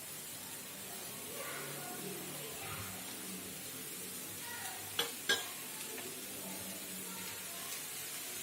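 Sliced bitter gourd sizzling softly in hot oil in a pan, a steady low frying hiss with a couple of sharp scraping knocks as it is stirred.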